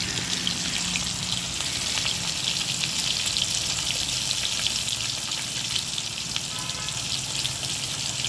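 Fish fries in hot oil in a pan, a continuous close sizzle with fine crackling spatter and a few faint stirring touches, steady and without talk.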